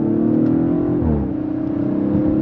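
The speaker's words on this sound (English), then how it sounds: "I love the burbles on that shift." A 2021 Audi RS5 Sportback 2.9L bi-turbo engine revs under load, then drops in pitch during a gear change with a brief low exhaust burble before pulling again.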